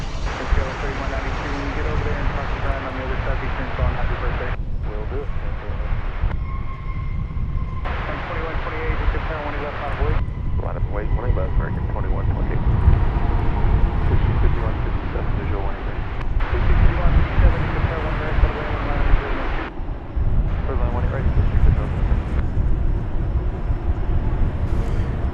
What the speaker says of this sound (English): Arriving from Colorado Springs, American Flight 2788, a 737-800. Coming in there on runway 18 right.